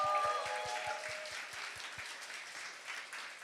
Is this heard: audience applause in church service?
yes